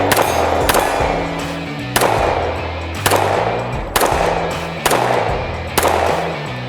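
A Canik Mete SFT pistol fires brass-cased ammunition at a shooting range: six loud, sharp shots spaced about one second apart, each followed by a short ringing decay, with no talk.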